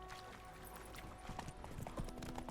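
Roach, a horse in The Witcher 3, gallops with steady rapid hoofbeats under continuous game ambience, moderately loud and close throughout.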